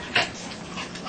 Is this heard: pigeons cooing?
no